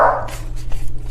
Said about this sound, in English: Please ignore my dogs in the background if you can hear them.